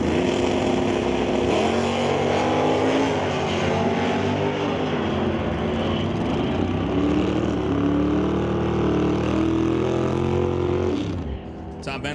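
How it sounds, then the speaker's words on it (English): At a drag race, a 1996 Superstock Camaro and a Dodge Dart make loud, dense engine roar across the whole stretch before it drops away at the end. "Dials in 1040 for the 1996 Superstock Camaro, going up against Chris Stone"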